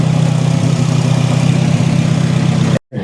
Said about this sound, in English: Shit got a rough idle out of nowhere.